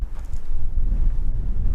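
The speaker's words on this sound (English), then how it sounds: "Ah, too windy, too windy." Strong wind buffets the microphone outdoors at night, producing loud, continuous low rumbling gusts that swell and dip without pause.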